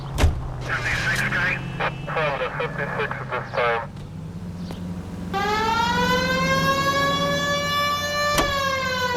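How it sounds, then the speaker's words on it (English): Police car siren from the video game L.A. Noire, a loud wailing tone that starts midway and holds steady over engine noise, after a stretch where people talk. "We have a siren."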